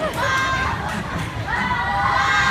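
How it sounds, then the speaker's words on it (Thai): A concert crowd of fans cheers and shouts loudly, a continuous wash of high, excited voices with a few squeals rising above it, close and steady throughout. "ขอเสียงโห่ดังๆนะครับผม"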